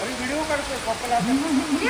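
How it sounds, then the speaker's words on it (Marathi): Steady heavy monsoon rain pours down in a dense hiss in Konkan, India, with a voice faintly audible through the downpour. "पाऊस वाढलेला आहे एकदम भारी भारी पाऊस वाढला आहे"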